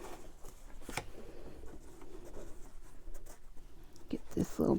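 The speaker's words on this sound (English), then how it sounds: "I'm going to trim this without trimming my elastic, hopefully, right?" Scissors trim fabric around an embroidery hoop close by in quiet, irregular snips and rustles, with a few louder cuts near the end.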